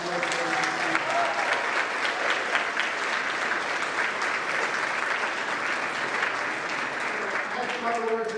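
An awards ceremony crowd at a community college applauds, dense continuous clapping filling the room evenly throughout, with a voice heard faintly at the start and end.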